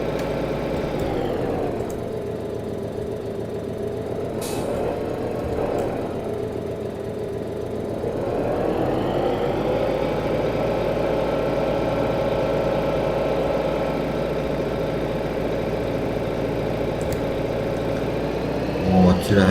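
A tractor engine in Farming Simulator 2013 on an American map, idling steadily then rising into a louder, higher drone as it accelerates and holds there, continuous and close.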